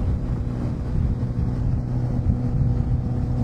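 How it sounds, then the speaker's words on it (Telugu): Kawasaki ZX-10R superbike with an aftermarket exhaust on a breakfast group ride, putting out a continuous deep engine drone with a rough low pulse. It stays fairly loud and steady throughout, with wind noise blended in. "ZX 10R, దీనికి ఆఫ్టర్ మార్కెట్ ఎగ్జాస్ట్ ఉంది, అందుకే సౌండ్ చాలా బాగా వస్తుంది"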